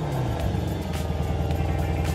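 A Mercedes-AMG C63 S Coupé V8 engine with a petrol particulate filter rumbles steadily at close range, a low continuous drone with a slight rise in revs, loud and without any voices.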